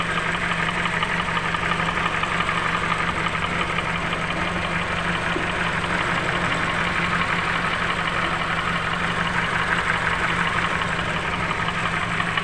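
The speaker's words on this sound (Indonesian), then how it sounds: "Mesinnya sedikit pincang juga ya." A car engine with a rough-running fault and an automatic transmission problem from the wrong transmission oil idles steadily and loudly up close, with an uneven, slightly knocking rhythm throughout and no talking.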